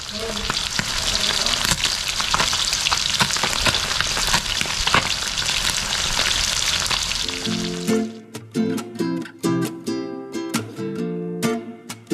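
Fish frying in a pan, loud steady sizzling that fills most of the clip, then cuts off and gives way to scattered clatter and crackles near the end.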